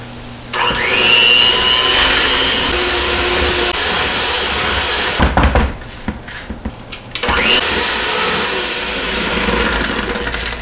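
Electric mixer beating cake batter of butter, sugar and eggs in a bowl, a loud steady motor whine close by that drops out briefly into a few knocks and rattles, then starts up again.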